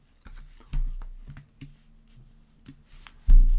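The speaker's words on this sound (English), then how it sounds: "now I can just use the arrows on the keyboard and drop them down" Keyboard arrow keys pressed one after another at a computer, a sparse run of close, crisp clicks with short gaps between them and no talking.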